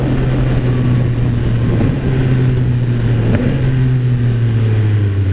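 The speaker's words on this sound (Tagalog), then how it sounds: "Grabe yung tunog ng downshift." A Yamaha XSR900 motorcycle engine revs sharply on a downshift, a loud, close, continuous drone that blips up in pitch briefly, with heavy wind rush over it.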